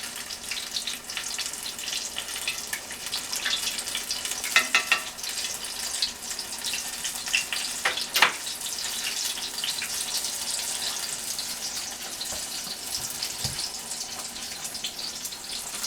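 Homemade battered onion rings frying in hot oil, a steady close sizzle and crackle throughout with a few louder pops and bubbling bursts, no voices.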